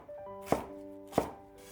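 A kitchen knife chops half a stalk of green onion into small rings on a cutting board, two crisp, evenly spaced knife strokes in a quiet room with no talking.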